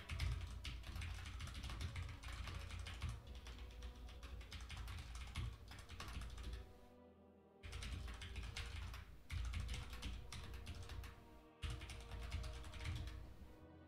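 Rapid keyboard typing during a gaming stream, dense clicking keystrokes running nearly continuously over a low background hum, with two brief pauses.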